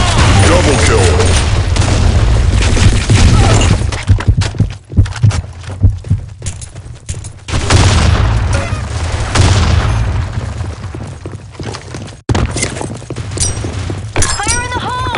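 Grenade blasts and bursts of gunfire in the online shooter Blackshot on the Sand Storm map: loud, dense booms and rapid shots fill the mix, with brief gaps, sharp cutoffs and game announcer voices mixed in.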